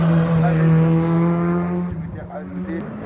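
A Renault Clio 2 S16 hill-climb race car's small engine drones at high revs on the Bagnols-Sabran course de côte, a steady tone that fades as it pulls away, under a commentator's voice.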